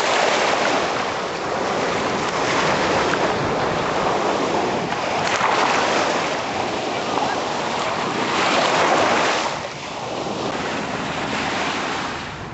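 Ocean surf on Miami's South Beach rushes in continuous swells of crashing and receding water, with gusty wind buffeting the microphone throughout.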